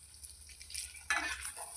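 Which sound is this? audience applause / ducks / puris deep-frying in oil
puris deep-frying in oil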